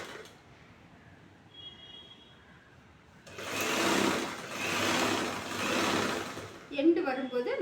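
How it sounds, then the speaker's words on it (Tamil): A sewing machine stitches along a folded blouse hem with a half to three-quarter inch fold. After a quiet start it runs in three loud whirring bursts, and a voice speaks briefly at the end. "மடக்கி மடிப்பின் ஓரமாக தையல் போடுறோம்"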